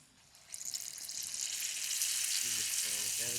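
Unniyappam batter is poured into a hot pan. A sizzle starts about half a second in and swells into a loud, continuous crackling fry, with brief clinks near the end.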